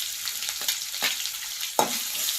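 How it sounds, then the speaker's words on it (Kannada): Onions fry in a pan with a steady close hiss, broken by a few louder bursts of sizzle as they are stirred or shifted, and no one speaks. "ಉಳ್ಳಾಗಡ್ಡಿ ಏನಂತಿರಲ್ಲ ಚಲೋ ತಂಗಿ ಫ್ರೈ ಮಾಡ್ಕೋಬೇಕು ರೀ"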